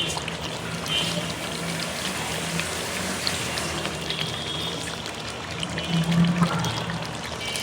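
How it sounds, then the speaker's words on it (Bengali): Broth pours into a pot of cooking beef and potato curry, a steady close watery pour and sizzle running throughout with no talk. "এখন ঝোল দিয়ে দিই।"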